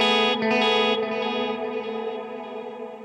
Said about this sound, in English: That is bringing out the modulation.